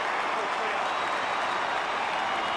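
A football crowd at an AFL match between Carlton and Collingwood roars and applauds a goal, a dense, steady wash of cheering and clapping that holds loud and unbroken throughout.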